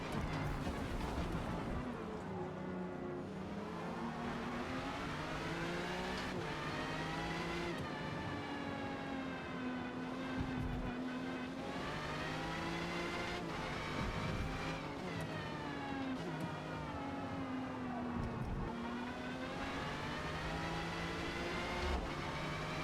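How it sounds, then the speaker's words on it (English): A race car engine in Forza Motorsport drones loudly and continuously from the hood view, its pitch climbing and dropping repeatedly through gear shifts. "The engine is louder also when you're on that hood view."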